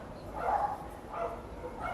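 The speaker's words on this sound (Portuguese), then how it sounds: "os cachorros decidiram que eles iam latir pra cá" Dogs bark nearby in a few soft, muffled yips and barks spread across a couple of seconds over low background noise.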